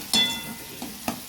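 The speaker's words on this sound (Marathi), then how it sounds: "कांदा परतून घेतला, त्याच्यातच मटर बी परतून घेतले आणि आता टाकले टोमॅटो" Onion, peas and tomato sautéing in a pan, a soft low sizzle broken by a few quick stirring knocks and scrapes, close by and without talk.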